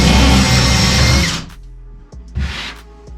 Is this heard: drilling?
yes